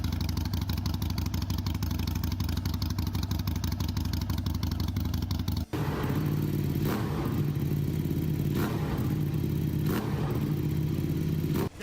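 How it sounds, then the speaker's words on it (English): A 45-degree American V-twin idles with a dense, loping, uneven beat for the first half, then a 90-degree Italian V-twin takes over with a smoother, steadier rumble and a few throttle blips, both close and loud with no talking. "here's a 45-degree American V-twin. Sounds noticeably different from a 90-degree Italian V-twin."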